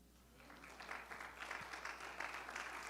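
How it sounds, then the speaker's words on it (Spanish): Church congregation applauding during a Spanish-language sermon, a fairly faint, scattered patter of clapping that gradually thickens over a few seconds, heard from a distance in a reverberant room. "¿No le das un aplauso a Él?"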